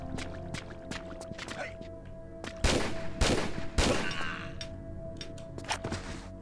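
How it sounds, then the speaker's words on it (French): Desert Eagle pistol shots in Tomb Raider 3, several loud sharp reports clustered mid-clip among lighter game thuds and clicks over a steady background hum. "Je vais tuer au Desert Eagle, ouais j'ai 30 balles, ça devrait aller."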